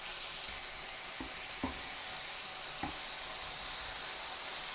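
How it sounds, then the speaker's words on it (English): Two thin fast-fry steaks sizzle in a hot pan for a Philly cheesesteak, a steady loud hiss of frying with a few soft knocks of stirring or turning, close and continuous. "add in these extra 2 thin steaks, fast fry steaks"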